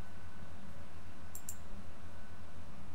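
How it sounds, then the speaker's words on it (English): A computer mouse clicks twice in quick succession while drafting in AutoCAD, the crisp clicks standing alone over a faint steady hum. "Right click on the snap mode button and select settings."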